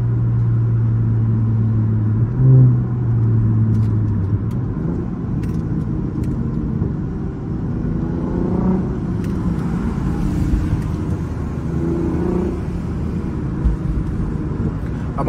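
Lexus IS350 with a loud exhaust driving at night, heard from inside as a steady low rumble with a few gentle rises in engine pitch and no voices.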